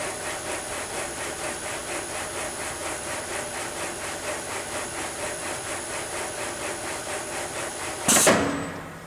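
Sunnen ML-2000-DF power-stroked horizontal honing machine running its auto cycle, a steady close mechanical drone with a faint rhythmic stroking pulse, ending in a brief louder hiss-like burst near the end.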